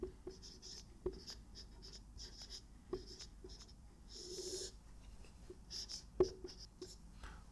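Chalk or marker writing on a board during a mathematics lecture, with short scratchy strokes and occasional taps, moderately close but fairly quiet in a room.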